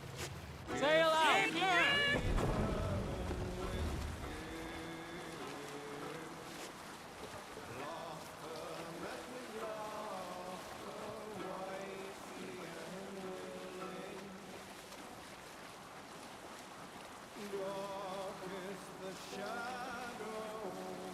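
A boat in Assassin's Creed Valhalla moves across the water with a soft wash of waves and creaking under game music and faint voices. A louder splash or surge comes early, then the sound settles.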